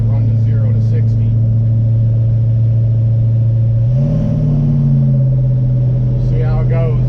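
A 1968 Dodge Charger engine drones steadily while driving, a loud low hum that rises in pitch midway as it accelerates, with a voice talking over it.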